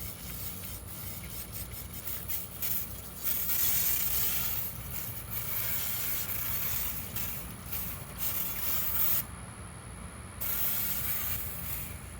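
A water spray rinses a bicycle, hissing steadily up close and shifting as it moves over the frame. The hiss drops out briefly near the end, then resumes.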